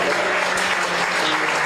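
A church congregation applauds and cheers in acclamation of Jesus during a French-language sermon gathering, a dense, steady wash of clapping and voices that holds level throughout.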